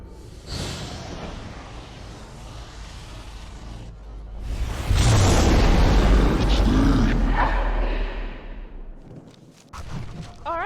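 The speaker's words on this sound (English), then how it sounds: "with that kind of extreme explosion, we're in the Fade" Extreme magical explosion entering the Fade in the video game Dragon Age Origins, a sudden heavy booming roar that swells midway and fades out, following quieter rumbling game ambience.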